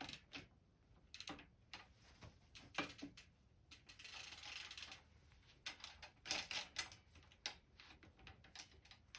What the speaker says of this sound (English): We're just doing this so we can get the chain off and get that crank off.